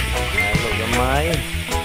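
Chicken adobo sizzles loudly in a pan as it is stirred, a constant close frying hiss under a person talking.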